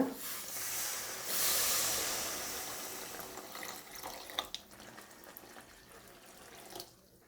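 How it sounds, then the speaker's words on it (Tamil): Water is poured into a pot of village-style crab curry, a continuous close rushing hiss that swells then gradually thins out and stops near the end, without speech. "இப்போ குழம்புக்கு தேவையான தண்ணி சேர்த்துக்கோங்க"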